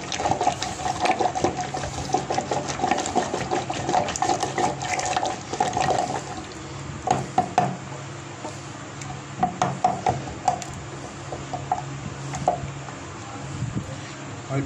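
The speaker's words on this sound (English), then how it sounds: "I put some more water" Water is poured into plum jam in a pot and stirred, a running liquid splash at first followed by scattered clicks and knocks of a whisk against the pan.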